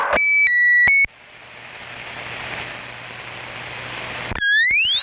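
Short electronic roger beeps of changing pitch sound at the start and end, around a stretch of steady radio static hiss, on CB radio channel 12 AM in Southern Maine.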